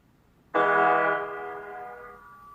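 One full major chord played together rings out loud and clear, slightly out of tune, then decays gradually over a couple of seconds, with nothing else around it.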